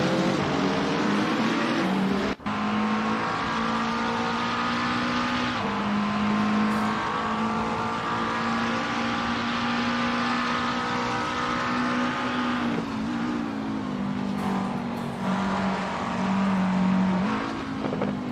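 White GT3 race cars battling on a narrow circuit, a continuous loud engine drone with shifting pitch as cars rev and change gear, one sharp click near the start, and no voices over the racing.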